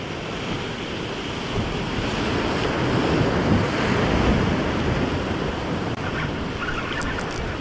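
Ocean waves surging against a rock jetty, a loud continuous roar of surf with heavy wind buffeting the microphone, swelling slightly midway.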